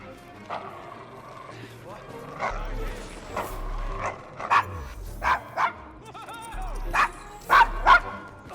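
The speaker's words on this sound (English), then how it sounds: "Is your dog quite all right?" A dog in Assassin's Creed Syndicate barks in short bursts and whimpers on a Victorian London street, loud and close, mixed with horse hooves and people talking nearby.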